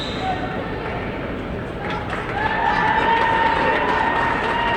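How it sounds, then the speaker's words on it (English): A gym crowd at a girls' high school basketball semifinal breaks into applause as a player leaves the floor, a broad wash of clapping and cheering that swells midway, with a commentator talking over it. "Riley Fassett gets a round of applause"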